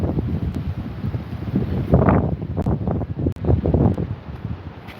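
Wind gusts buffet an outdoor microphone in Benidorm, a steady low rumble with louder bursts near the middle and toward the end, close and fairly loud throughout.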